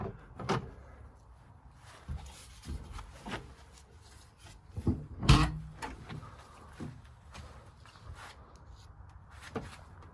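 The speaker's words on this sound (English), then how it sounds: "And we can open the rear doors and get a look back here." The rear doors of a 1979 Toyota Land Cruiser FJ40 are opened, making metallic clunks, rubbing creaks and one loud latch thump in a quiet space, with no voice over them.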